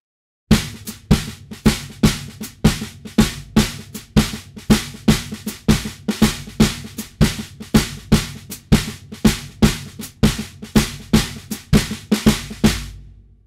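A muffled, dry snare drum plays a groove with alternating right-left sticking, a steady stream of crisp strokes with accented hits in a repeating New Orleans pattern, close and alone for about thirteen seconds.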